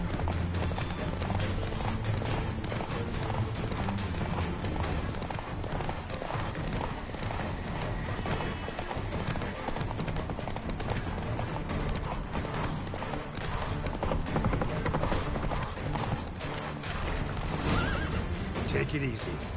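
Geralt's horse Roach from The Witcher 3 trots with continuous rhythmic hoof clops and whinnies now and then, loud and close over a dense game soundscape with voices.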